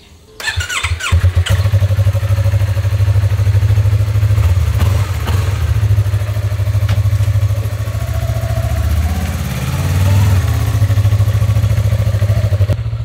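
A motorcycle engine starts with a burst, then a loud close engine rumble holds steady as the bike pulls away and rides off, its revs rising and dipping near the end, with no talking heard.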